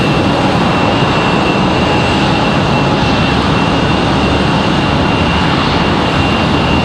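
A JetBlue jet airliner taxis at Raleigh-Durham International Airport, a loud, continuous engine roar with a high whine held steady at close range throughout, with no voices.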